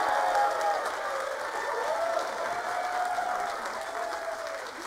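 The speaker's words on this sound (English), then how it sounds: "Please give a round of applause to Rick Ord." An audience at a tutor reunion event applauds a speaker, a fairly quiet, steady wash of clapping with faint crowd murmur and a sustained tone beneath it.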